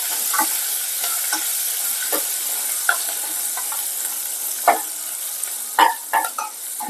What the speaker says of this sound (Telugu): కరివేపాకు కొంచెం వేగిన తర్వాత ఇందులోకి పచ్చిమిర్చి వేసుకుందాం.